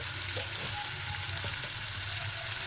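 Chicken liver fries in hot oil in a home kitchen, a steady, close, continuous sizzle with occasional light stirring pops and no voices.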